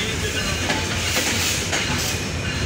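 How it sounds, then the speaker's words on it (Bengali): The down Nilsagar Express pulls into Birampur railway station, its continuous loud rumble and hiss filling the air close by without pause. "তো বিরামপুরে ডাউন নীলসাগর আসলো।"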